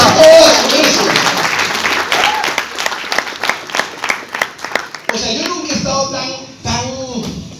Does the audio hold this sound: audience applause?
yes